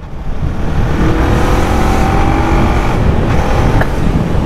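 FKM Falcon X400 motorcycle, a 38-horsepower bike, with its engine revving loudly and steadily close by, a continuous throttled roar throughout with no talking.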